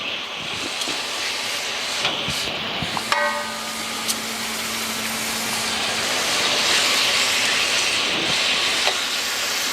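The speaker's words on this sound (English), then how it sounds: "you want to get that nice charring sound but not too much smoke" Chicken char siu marinated with sesame oil sizzles in a pan over medium heat, a steady hissing fry with occasional pops and crackles, close and continuous without talk.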